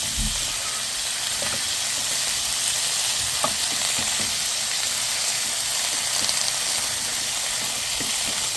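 Yardlong beans fry in a pan with sizzling garlic and dried fish, giving a steady, loud frying hiss with occasional stirring clicks throughout.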